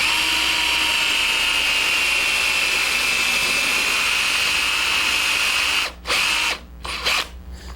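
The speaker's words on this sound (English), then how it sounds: "Okay, I drilled that hole." Electric drill boring a hole into a wooden workpiece through a doweling jig while building a coffee table, a loud steady whine running close and continuous, then cutting out in a few short breaks near the end.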